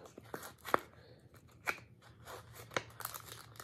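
A trading card is pulled from its thin plastic wrapper, making a few faint, sharp crinkles and tearing snaps close by in a quiet room, with nobody talking.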